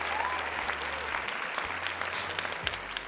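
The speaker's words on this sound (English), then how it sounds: "There's a clap." A small audience claps steadily for a few seconds, dense and fairly close, with a low background hum beneath.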